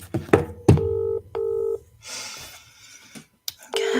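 Telephone keypad dialing tones sound as a number is called: several short clear beeps in an uneven sequence, separated by handling clatter and brief gaps, fairly close and loud.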